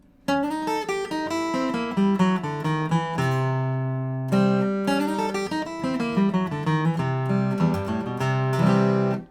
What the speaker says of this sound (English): I'm going to use that sliding blues scale to walk this lick down